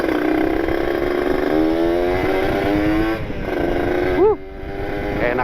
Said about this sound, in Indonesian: Enak banget suara motor nih habis ganti gaspol tuh